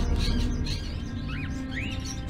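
Bird calls in a Fahrenheit: Indigo Prophecy scene, a few short rising and falling chirps over a steady low ambient rumble, moderately faint, with no talking.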